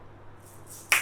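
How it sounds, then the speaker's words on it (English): One sharp, bright clack of asalato shells struck with the left pinky, close and sudden after a near-silent moment. "and lastly left pinky click."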